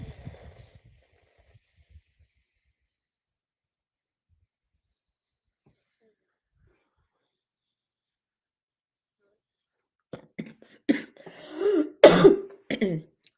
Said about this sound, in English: it was just a small cough